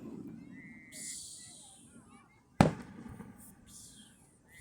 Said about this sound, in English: I have the power of fireworks.